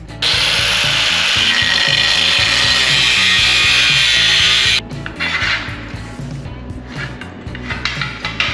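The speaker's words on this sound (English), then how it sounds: "I'm gonna make a few relief cuts in it and bend it and then weld it back together." A steel rocker piece for a 1930 Dodge Coupe being turned into a pickup gets relief cuts, with a loud, steady abrasive cutting whine for several seconds that then gives way to rougher, uneven grinding and scraping.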